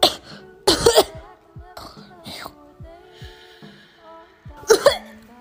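Muffled, stifled coughs burst out twice, once early and once near the end, with quieter voiced sounds and breaths between them, close and fairly loud against a quiet background.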